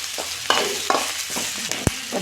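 Spice powder fries in a pan for a Rayalaseema-style country chicken curry, with steady sizzling broken by several sharp spoon scrapes and clinks as the mixture is stirred close by.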